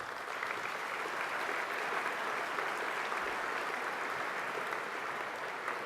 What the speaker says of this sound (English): Maybe a round of applause for our judges, if I could.